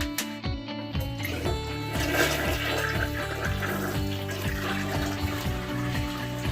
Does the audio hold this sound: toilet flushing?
yes